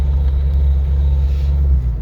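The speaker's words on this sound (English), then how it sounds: "So now we're going to do a shift into second gear." Engine of a 1956 Ford Anglia 100E shifting into second gear: a loud, steady low rumble close by, easing off slightly at the end, alone without talk.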